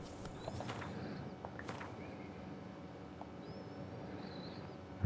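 A horse gallops in The Witcher 3, its hoofbeats a muffled, steady clatter over a constant ambient bed. Faint bird calls are scattered through the scene, and a sharp thump lands right at the end.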